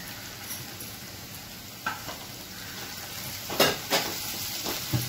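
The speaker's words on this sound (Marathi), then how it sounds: "टोमॅटो 2 मिनिटं परतून घेऊया" Tomatoes sautéing in a pan with onions already fried golden brown, a soft steady sizzle with a few louder stirring scrapes and clicks of a utensil toward the end, no talking.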